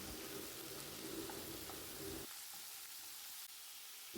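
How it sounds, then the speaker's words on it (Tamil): Vegetables sautéing in a pan before tomato goes in produce a soft continuous sizzle with faint stirring, quiet and close. The sound drops partly midway and ends with a small knock, with no voices. "இதெல்லாம் நல்லா வதக்கிக்கலாம்"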